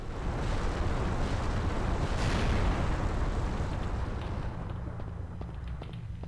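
Giant grenade launcher explosions in Devil May Cry: a loud, rumbling blast wash with a sharp burst near the middle, then a long decaying roar that slowly fades.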